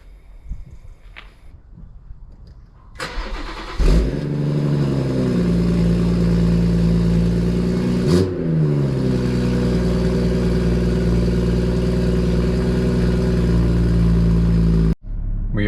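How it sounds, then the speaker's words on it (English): A BMW M140i engine cold-starts with a sharp bark around four seconds in, then settles into a loud, steady idle with a brief rev blip midway, ending abruptly. "Who's ready for a little cold start on the M140 then?"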